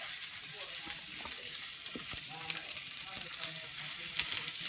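Homemade sausages fry in a pan with a loud, dense, steady sizzle and crackle, plus a few light scrapes and taps close by.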